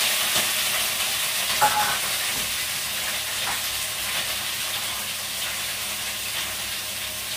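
Spiny gourd (kakrol) pieces sizzling steadily in a frying pan at home, a continuous hissing fry with occasional stirring clinks, close and even throughout with no talking.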